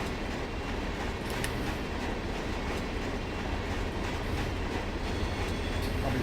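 A train rolls past in the Run8 train simulator game, an eastbound freight with a steady, dense rumble and wheel noise. The sound holds at an even level from start to finish, with faint metallic clicks now and then.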